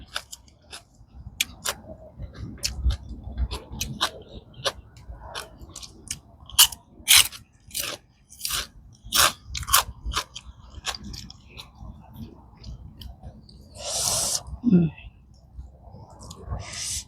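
Close, crisp crunching and chewing of papaya salad with rice noodles repeats irregularly over the clip, with occasional soft murmurs and mouth noises between bites.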